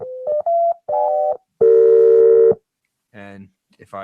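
DeepMind 12 synthesizer notes run through tube distortion: several short buzzy sustained tones, then a longer loud held chord, followed by brief harmonic bursts, close and dry.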